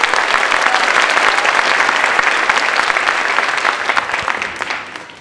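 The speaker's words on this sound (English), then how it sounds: "How about practicing an applause," A theater audience claps together in steady, dense applause during a cast rehearsal warm-up, loud and continuous throughout and tapering slightly toward the end, with no talk over it.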